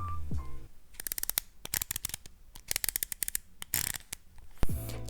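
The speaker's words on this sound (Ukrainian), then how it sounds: "послухайте цей звук зміни діафрагми" Rapid bursts of crisp, dry mechanical clicks from the aperture ring of a 1980s Helios-77M-4 camera lens being turned, close by, in irregular clusters with short pauses between.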